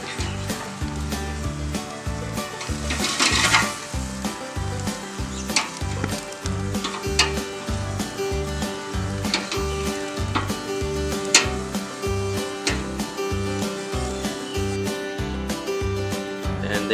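Root beer steaks sizzle steadily in a pan just after being flipped, a continuous frying crackle with scattered pops running under a rhythmic background beat.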